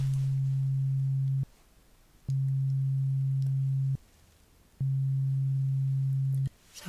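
Hearing test beeps: three long, steady low-pitched tones of equal length, separated by short silences, clean and close with nothing else heard.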